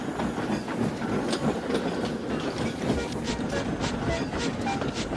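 Steam engine James, a storybook locomotive, chugging along the railway with a steady rolling rumble and clatter of wagons, continuous and fairly loud, with a narrator's voice faintly over it.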